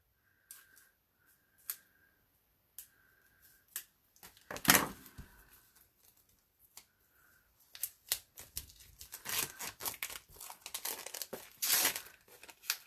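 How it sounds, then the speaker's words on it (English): Paper ripping and crinkling while a newly delivered catalog pack is unboxed, with scattered tears and rustles that build into a busy, dense stretch of tearing near the end; no voices. "ripping paper"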